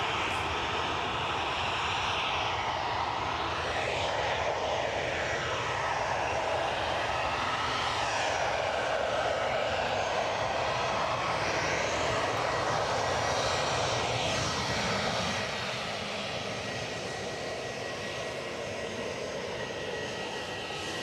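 A Ryanair Boeing 737-800 jet departs from Edinburgh airport: a loud, continuous engine roar holds steady for about twenty seconds, then eases slightly near the end.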